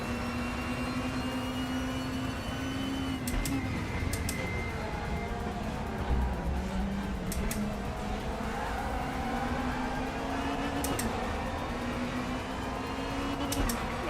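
Race car engines in the RaceRoom racing game, several cars roaring together at high revs with rising and falling pitch as they shift and pass, loud and continuous.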